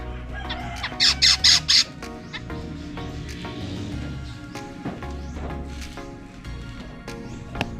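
Birds at a sliding window give a quick cluster of four or five sharp, loud squawks near the start, then fainter scattered calls over a steady background.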